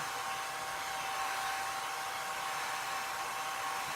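Hair dryer blowing over a craft transfer, a steady continuous whoosh with a constant motor hum, moderately close and unbroken throughout, no voices.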